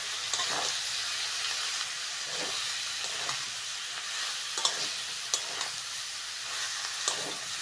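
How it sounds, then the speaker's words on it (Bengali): Cauliflower and potato sautéing with spices in a pan, a steady close sizzle broken by scraping stirs every second or so, no talk. "মশলার সঙ্গে ফুলকপি আলু ভালো করে কষে নিয়েছি"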